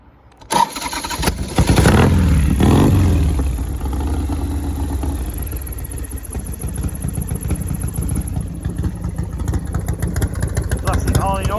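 A Harley Davidson FXLR motorcycle with an S&S 96 cubic inch engine cranks and fires up close by, revving loudly before settling into a lumpy, rumbling idle, with people talking over it.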